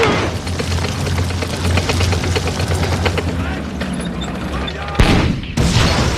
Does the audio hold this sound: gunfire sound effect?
yes